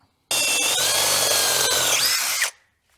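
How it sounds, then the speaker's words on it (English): A power drill bores a 5/16-inch hole in one loud, continuous burst of about two seconds at close range, starting abruptly and winding down as it stops, then silence. "let's drill a hole in it and see what we got"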